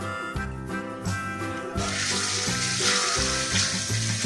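Chicken sautés in a pan for Gondhoraj lemon chicken, a broad frying hiss that swells louder after the first couple of seconds and continues under steady background music.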